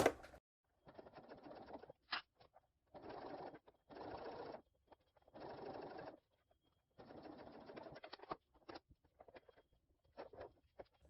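Sewing machine stitching a Baby Belle bucket bag through a bulky corner with a hump jumper, several short buzzing runs broken by silent gaps and small clicks as the needle is turned by hand.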